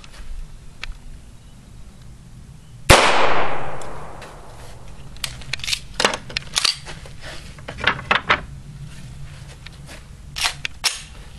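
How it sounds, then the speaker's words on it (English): .22 long rifle rounds fired into a household wall: one sharp, loud crack with a ringing decay, followed by a string of quicker, lighter impact snaps and clatter at irregular intervals, with no voices. "Let's shoot some rounds. .22 long rifle."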